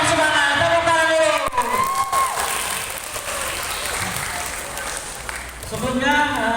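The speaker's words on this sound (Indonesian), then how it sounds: "Tepuk tangan dulu." Students at a school anti-drug awareness session in Jambi clap and cheer loudly, with shouting voices over the applause that thins out midway and then rises again.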